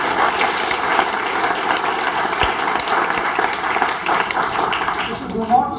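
Sustained audience applause fills a lecture hall, dense steady clapping from a large crowd that holds loud throughout before tailing off at the end.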